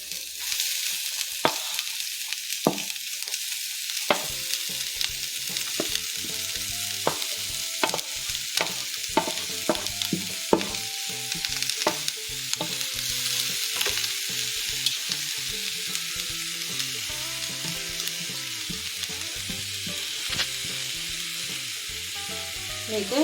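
Carrot and onion sizzle steadily in a hot pan for a carrot thoran, with frequent scraping stirs and small clatters of the spoon breaking through the continuous frying hiss. No voices are heard.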